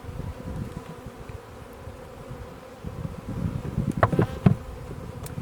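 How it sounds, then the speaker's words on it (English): Honeybees buzz around a hive in a steady low drone, with individual bees flying close past in louder bursts toward the end. "so that the bees that are left behind will find their way into their proper home"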